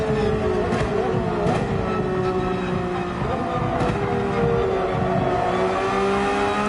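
Race car in Gran Turismo 7 at Monza, its engine droning steadily with shifting pitch as it brakes and then accelerates, loud and continuous with no talking.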